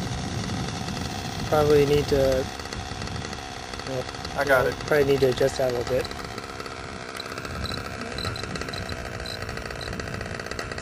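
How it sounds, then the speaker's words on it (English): Stratus model aircraft engine still running after a flight, a steady high buzz close by under a man's speech, with brief louder bursts. "The engine's not stopping."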